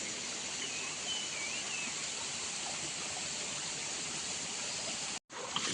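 A spring-fed stream in a Konkan forest flowing all year round, giving a steady, close, hissing wash of running water that carries on without a break and drops out abruptly near the end.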